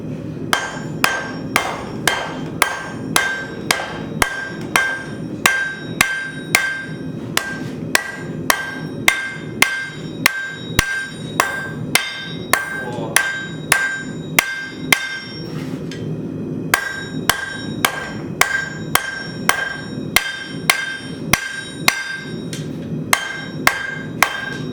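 A hammer strikes hot steel while a kitchen knife is forged, sounding as loud, sharp, ringing blows in a steady rhythm with a brief pause near the middle.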